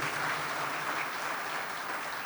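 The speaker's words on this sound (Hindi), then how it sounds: "उनके लिए एक जोरदार ताली जरूर बजनी चाहिए" An audience applauding at a tribute concert, dense sustained clapping from many hands that holds steady throughout with no gaps.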